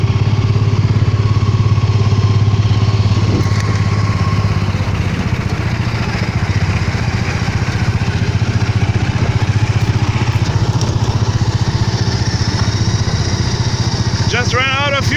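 A hot rod engine runs steadily while the car is driven, a loud continuous low rumble with clatter that holds through the whole stretch, close to the listener.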